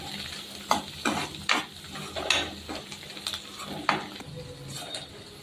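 A spoon stirs curry with turmeric as it fries in a pan, giving repeated scraping strokes over a steady low sizzle, close and moderately loud with no voices.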